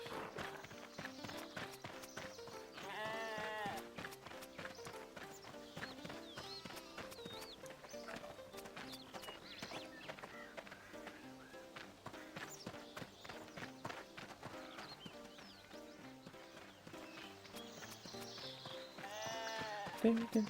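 Sheep bleating while being sheared in the RuneScape 3 video game, repeated bleats over a steady bed of game sounds and footsteps, with a voice talking throughout.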